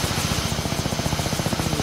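Helicopter in a flight video game, a steady pulsing rotor thump with engine whine, close and fairly loud throughout, with no talk.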